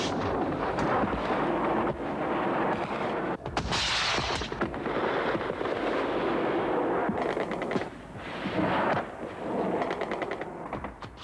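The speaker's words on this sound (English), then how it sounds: "Increasingly heavy air attacks softened up the guerrillas' positions." Heavy air attacks with flak and explosions in Soviet–Afghan War footage make a dense, continuous barrage of loud blasts and rapid gunfire-like bursts that rumble without pause.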